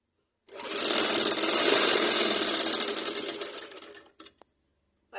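Sewing machine running a steady, continuous stitching whir for several seconds while a back-button blouse is double-stitched, then slowing and stopping near the end, with no talk over it.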